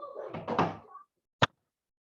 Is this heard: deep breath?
no